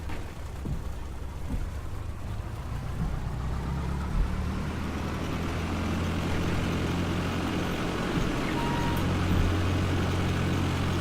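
Aircraft taxiing on a runway in the Prepar3D flight simulator, a continuous engine drone with low rumble that slowly builds and holds steady, with no talking.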